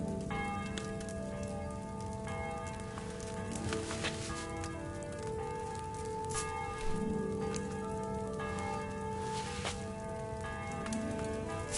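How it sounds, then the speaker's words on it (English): A church bell tolls in the video game Kingdom Come 2, its deep resonant strikes ringing out and sustaining over a steady rain-like wash of ambient noise, with no voices. "The 11th toll of the bell."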